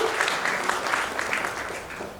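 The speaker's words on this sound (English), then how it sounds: "A huge round of applause." Sustained, even applause from a conference audience thanking panelists at a capital market summit, filling the hall at a steady moderate level.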